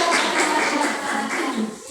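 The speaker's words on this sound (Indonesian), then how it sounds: "Tepuk tangan." Children in a classroom clap their hands together during a lesson on hadith about manners, a dense, steady burst of many small claps lasting about two seconds with no pauses.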